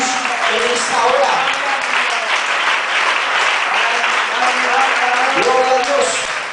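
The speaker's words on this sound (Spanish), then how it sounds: "Denle un aplauso al Señor Jesús en esta hora" A church congregation applauds, a loud, sustained wash of many hands clapping throughout with scattered voices and cries rising within the crowd.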